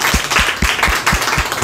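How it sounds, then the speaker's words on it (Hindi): Audience clapping at a job and career guidance seminar, loud rhythmic claps landing in an even beat of roughly four per second, close and prominent. "एक बार जोरदार आप सभी के लिए, मैडम के लिए और सर के लिए जोरदार तालियां"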